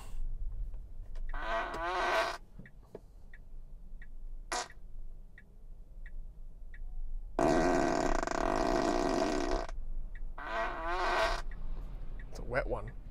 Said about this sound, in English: So it's essentially 5 minutes of me listening to the farting noises and commenting on them.